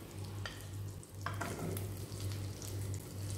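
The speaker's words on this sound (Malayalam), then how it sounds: "അതുകൊണ്ടാണ് നമുക്ക് ഫസ്റ്റ് സ്റ്റെപ്പായിട്ട് ഈ സോസേജിനെ ഒന്ന് ഫ്രൈ ചെയ്തെടുക്കണം" Sausage frying in a pan with oil and butter gives a steady, close sizzle with crackling spits throughout, and a low hum underneath.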